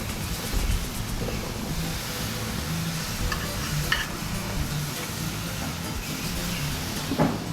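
Salmon fillets cook on a very hot barbecue grill, giving a steady, close sizzle and hiss with occasional clanks and scrapes of a utensil on the grate, with no talking.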